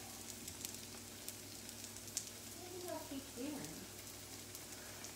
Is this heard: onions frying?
yes